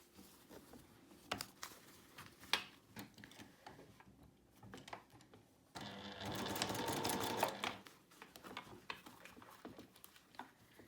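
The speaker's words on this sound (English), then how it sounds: "stitch them together like that along this edge using 1/4 inch seam allowance and back stitching at the beginning and end." A sewing machine stitches patchwork coaster pieces along a quarter-inch seam, with back stitching at the start and end: a short whirring run of stitching mid-clip between scattered clicks and fabric handling, quiet and close, with no talking.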